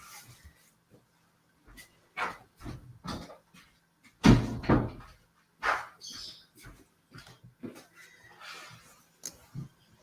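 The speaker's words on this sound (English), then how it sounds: "I need to shut the door." A door, just nudged open by a dog, swings shut indoors with a solid knock in the middle of a series of bumps and scuffs, alongside faint dog sounds and no talking.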